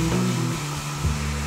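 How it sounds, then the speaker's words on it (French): A handheld hair dryer drying hair blows a steady, loud whirring hum with a low droning tone, its pitch dipping briefly near the end, with no talking. "Je viens de me sécher les cheveux"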